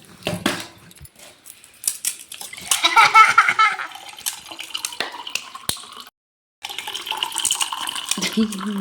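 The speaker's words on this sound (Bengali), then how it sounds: "এই যে একটু জল দিচ্ছি" Water splashes and trickles in uneven bursts as it is poured into a bowl while tamarind water and potato filling for fuchka are prepared, with light clinks of utensils, a brief pause, and occasional voices nearby.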